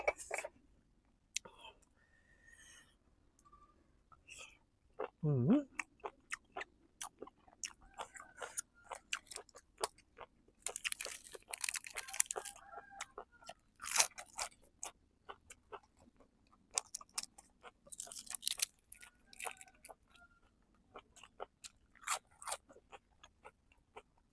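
Crunchy chewing of steamed apple snails cooked with herbs, close and crisp, with irregular bites and crunches spread across the clip and a few soft whispery sounds.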